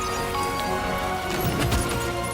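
Game rain in Death Stranding 2: On the Beach pours as a dense, steady hiss, loud and close, with a brief heavier rumble midway and no speech.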